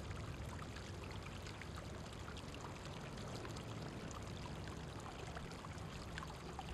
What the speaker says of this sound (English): Why do I hear water?